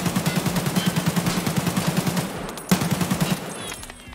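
An AK rifle fires in the Escape from Tarkov hideout shooting range: rapid full-auto bursts of loud, close gunshots, one long string of rounds, a brief break, then a shorter burst that trails off.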